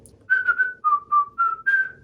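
A person whistles a short tune alone, five or six clear sustained notes stepping down and back up over two seconds, fairly close and at moderate volume.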